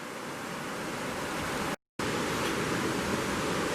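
Steady broadband rush of the Cispus River flowing past an October riverside camp, a continuous even roar of moving water heard alone with no voices.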